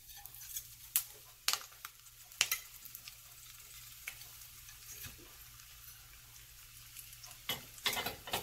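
Schnitzel cutlets fry in vegetable oil in a pan over medium to medium-high heat, giving a steady soft sizzle with scattered sharp crackles and pops throughout, no voices.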